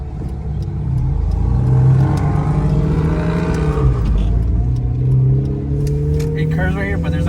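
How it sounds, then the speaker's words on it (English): A 2000 Honda Civic HX accelerates hard in first gear, its engine note rising and falling close by as people talk over it. "Try like a first gear pull."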